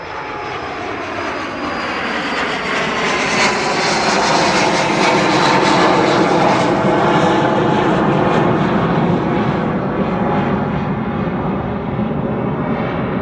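An aircraft taking off at East Midlands Airport gives a loud, sustained engine roar that swells and holds steady across the clip, with no talk over it.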